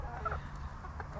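A rooster on a homestead gives a few short soft clucks, close but faint against a low outdoor background.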